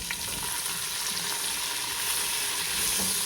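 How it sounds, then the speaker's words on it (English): Steady, close sizzling of beef browning in a hot frying pan, a continuous crackling hiss with no talking. "our meat is browning"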